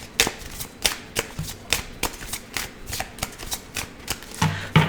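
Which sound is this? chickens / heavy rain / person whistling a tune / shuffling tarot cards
shuffling tarot cards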